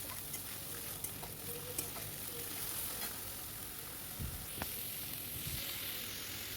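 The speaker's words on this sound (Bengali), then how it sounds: "এবার পেঁয়াজটাকে আমি একটু ভালো করে ভেজে নেব" Grated onion fries in a pan with ginger-garlic paste, a steady quiet sizzle broken by a few stirring scrapes and knocks close by.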